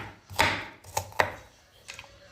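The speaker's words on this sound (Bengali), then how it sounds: "তো কুচি কুচি করে নিই পেঁয়াজগুলো ভালো করে।" A knife finely chopping onions on a board: about four distinct, fairly close thuds at uneven intervals, with quiet gaps between.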